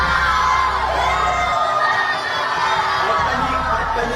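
Schoolchildren cheer and shout with joy as books are burned, a continuous excited crowd of young voices with whoops and yells over a sustained background hum.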